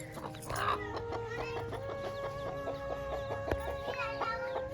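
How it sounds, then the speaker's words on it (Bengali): A hen clucks steadily with repeated soft peeps of newly hatched chicks layered over her, close by, with no talking. "আমাদের মুরগির বাচ্চা হয়েছে এখন দেখো"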